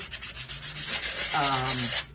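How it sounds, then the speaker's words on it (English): A diamond core sanding pad rubs steadily against the bottom of a wet ceramic piece, a gritty scraping that rises briefly into a tonal squeal before fading. "There's a nice sanding, a diamond core sanding pad here that works really well on the bottom."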